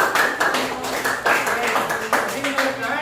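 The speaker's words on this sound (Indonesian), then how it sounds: "beri tepuk tangan buat Nay" Classroom clapping for a student named Nay, several rhythmic bursts of hand claps from a small group, close and fairly loud, with a voice sounding over them.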